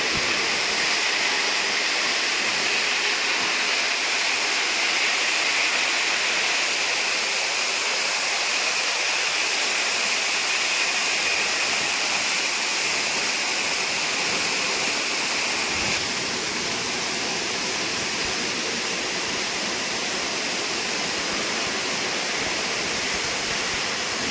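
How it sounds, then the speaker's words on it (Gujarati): Steady, loud rush of water spraying from overhead pipes onto a stone-cutting machine making tiles, with a constant machine whir underneath, continuous and unbroken throughout, no voices. "ઉપરની જે પાઇપો દેખાય છે એમાંથી પાણી આવે છે, અને કેટલું સ્પીડમાં કટિંગ થઈ રહ્યું છે"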